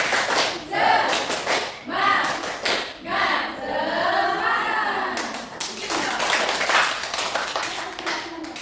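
A class of students clapping a rhythmic cheer in a classroom, patterned bursts of hand claps in quick sequences with short pauses, fairly close and loud, with children's voices calling out between claps.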